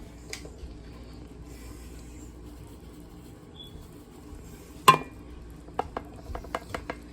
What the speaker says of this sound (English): Just mix until you can't see your seasonings and clumps anymore.